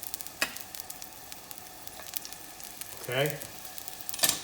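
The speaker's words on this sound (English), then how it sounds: "we can actually get that right in with the garlic right now." Garlic and hot peppers sauté in a hot pan with shrimp fra diavolo underway, giving a soft steady sizzle broken by a few sharp spatters and a brief stirring scrape; a voice speaks one short word near the end.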